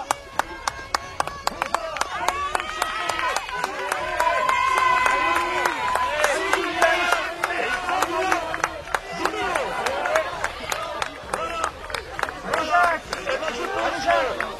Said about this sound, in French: Ça va donner de la voix et des applaudissements.